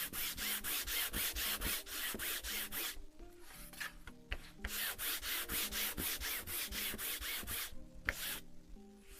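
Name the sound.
sanding a painting with a sandpaper block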